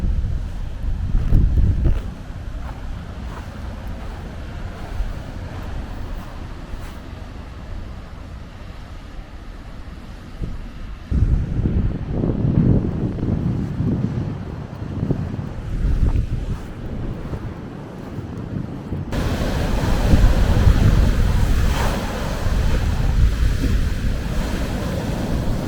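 Ocean waves washing onto a beach in Porto on a calm, sunny early-April day, a steady low surf roar mixed with gusts of wind buffeting the microphone, swelling louder near the end.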